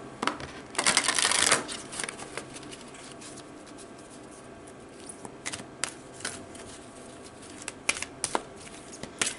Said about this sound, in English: So let's pull a card to give you some advice for navigating Pisces season.